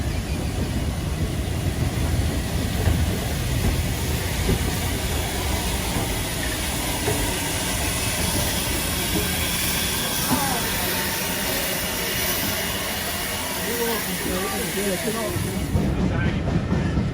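Steam locomotive Bahamas on the Keighley & Worth Valley Railway during a spring steam gala, a loud, continuous rumble and hiss of the train running nearby for the whole stretch.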